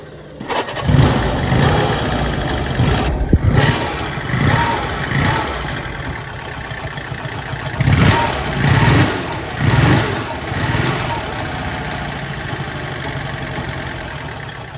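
A Honda S450 engine runs at idle, a steady low mechanical note with a few brief swells and surges, fairly close and continuous.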